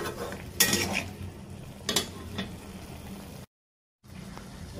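Masala with green chilies stir-fried in a pan for a shrimp and mixed winter vegetable curry, with a soft sizzle under a few distinct scrapes and clinks of a utensil on the pan, then a brief drop to silence.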